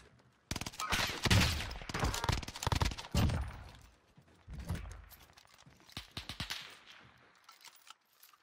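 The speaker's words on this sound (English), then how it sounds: "You're getting shot up the hill." Gunfire from the video game Warzone crackles in dense rapid bursts under loud, overlapping voices of players talking.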